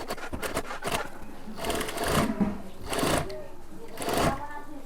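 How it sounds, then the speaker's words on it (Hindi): A sewing machine stitches the waistband onto a homemade kurta, running in short bursts of rapid mechanical chatter separated by brief pauses, fairly close and steady in level. "इस कपड़े को इस तरह से सही से अंदर की तरफ लेंगे बैन में और सिलाई को जारी रखेंगे।"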